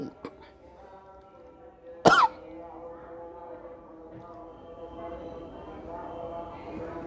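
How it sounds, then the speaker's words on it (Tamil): One sharp cough breaks out mid-recording, close and loud against a quiet background of low steady tones. "இருமல் அதிகமாகிறது"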